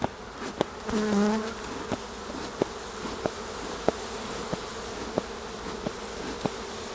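Honeybees drone steadily in an open hive during an inspection of queen cells on a frame, a dense buzz broken by sharp regular clicks and taps.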